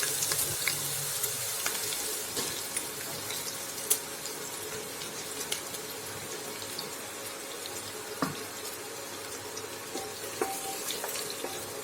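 Onions fry gently over low flame in hot mustard oil inside a pressure cooker, giving a steady hiss and sizzle with scattered small pops and crackles throughout, close and continuous with no talking.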